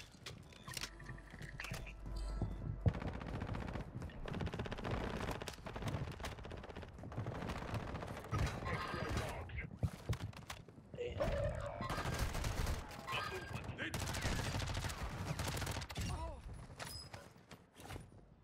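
Dense, rapid gunfire from a primary weapon in the video game Warzone 2, sustained bursts and fusillades running almost continuously, loud and close, with a voice talking over the shooting.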